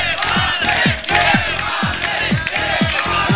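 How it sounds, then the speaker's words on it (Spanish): A crowd in a Spanish-language show audience claps and cheers loudly, with repeated rhythmic whooping shouts over continuous dense noise throughout. "Un aplauso para Don Javier, que venga adelante"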